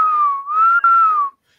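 A person whistles a single sustained, wavering tone in imitation of a Star Wars droid. The pitch bends up and down over just over a second, loud and close, and then cuts off into silence.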